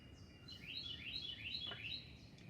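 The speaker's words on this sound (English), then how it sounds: "I can hear the birds chirping, can you?" Small birds chirp outdoors in a quick run of bright, high tweets, fairly faint and close together, against a soft steady background hiss.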